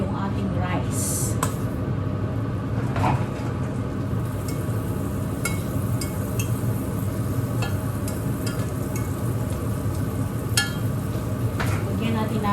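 Rice stirred and fried in butter for chicken majboos, a steady loud sizzle broken by repeated scraping and clinking of a utensil against the pan, with talk over it.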